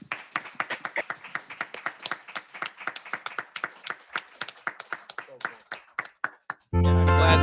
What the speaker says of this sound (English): let's give a round of applause everywhere for all of our veterans everywhere